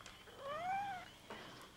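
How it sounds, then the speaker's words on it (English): A cat gives a single clear, rising and falling meow, close but fairly soft over faint background noise. "I forgot about the kitty"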